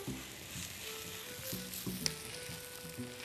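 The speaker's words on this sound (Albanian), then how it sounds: "Ja, shikoni si filloj të skuqet, filloj të marrin ngjyrë kadaifi." Kadaif pastry shreds sizzle and fry in butter in a pan, a soft, steady crackle with faint stirring sounds and no talk.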